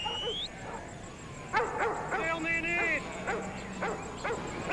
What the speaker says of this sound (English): It barks on command, and when told, goes left or right.